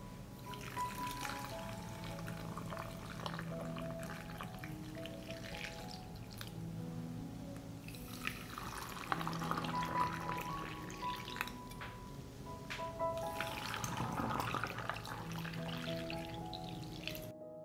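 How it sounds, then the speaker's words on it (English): Water poured into glass jars packed with pumpkin pieces for canning, a trickling, gurgling pour that swells and fades over a steady background hum, with no talk. "Fill the jars with water to cover the pumpkin."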